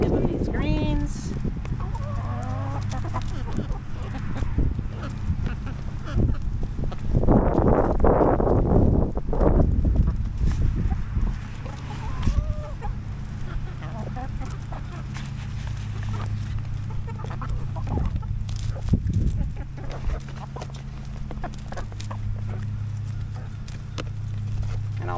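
Young chicks, thirteen weeks old, cluck and flutter nearby in a coop, with a burst of flapping wings around the middle, over a steady low hum and some faint human voice.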